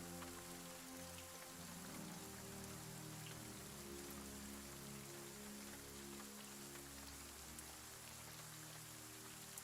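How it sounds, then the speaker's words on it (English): Steady rain patters and hisses without pause, an even wash of falling water with a low underlying rumble, soft in level and free of any voices. "The rain stopped."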